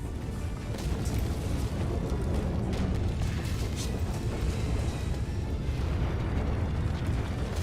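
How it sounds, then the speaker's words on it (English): A bomb goes off in the video game Broken Sword 3: The Sleeping Dragon, a loud, sustained rumbling roar of blast and debris that fills the whole stretch at even strength. "Bomb! Get down! Take cover!"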